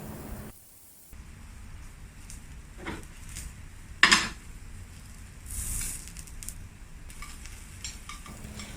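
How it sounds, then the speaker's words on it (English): Eggplant pan-frying in oil, a soft steady sizzle under occasional clinks of a utensil against the pan, with one sharper scrape partway through. "Pan fry the eggplant on both sides until it's slightly charred"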